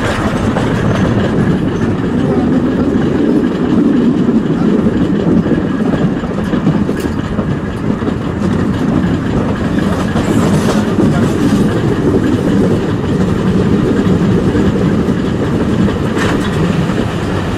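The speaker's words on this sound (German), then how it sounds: "unsere Dampflokfahrt endet hier im Bahnhof" Steam locomotive No. 20 pulling into Ottenhöfen station in the Achertal in autumn: a loud, steady rolling rumble of rail wheels and carriages with clickety-clack throughout, close by and without talk.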